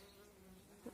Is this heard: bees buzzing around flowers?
yes